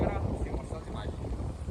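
Strong wind on a seafront buffets the phone microphone, producing a constant low, rumbling roar with uneven gusty surges across the short stretch.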